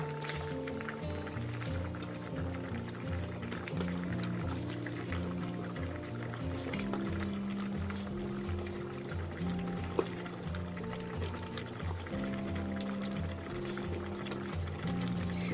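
Kaeng som curry with river prawns and lotus stems boils in a pot, giving a continuous bubbling, gurgling liquid sound at steady moderate level, with faint background noise.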